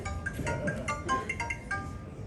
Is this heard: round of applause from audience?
no